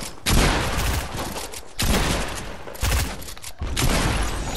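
Pump shotgun blasts from a video game, three loud booming shots spaced roughly a second and a half apart, each with a long, full-bodied rumble that fills the space between them.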